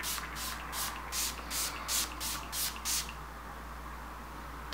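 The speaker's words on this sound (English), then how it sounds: "shake the setting spray" Eight quick hissing bursts of a makeup setting spray bottle, evenly spaced, close and fairly loud, then a faint background hum with no voices.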